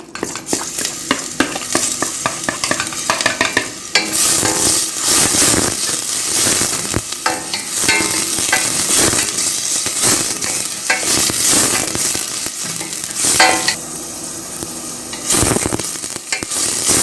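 Onion fries in hot ghee for Egyptian okra stew while a spoon stirs it around the pot, a loud, busy sizzle with scraping strokes and crackling bursts that keeps going without speech.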